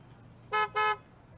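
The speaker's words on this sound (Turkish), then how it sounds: "Bir korna sesleri duyarız birazdan diye düşünüyorum." A car horn in Car Dealership Simulator, two short loud honks in quick succession, clean and distinct over quiet background.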